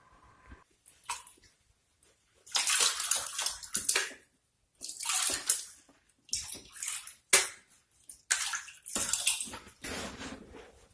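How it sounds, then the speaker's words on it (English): Water poured and splashed over sand while prospecting for gold, coming in several separate close bursts of sloshing and trickling with short pauses between them. "let me get this sand wet."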